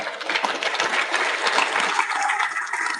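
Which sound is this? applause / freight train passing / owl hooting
applause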